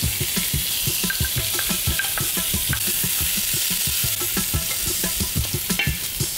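Celery stirred into a pot of frying onions and carrot for a lamb stew, a continuous close sizzle punctuated by rapid, rhythmic clacks of a spoon against the pot.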